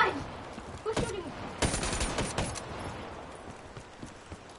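Scattered gunfire in Black Ops 3, a few sharp cracks and a short burst of rapid shots at moderate volume over a noisy background.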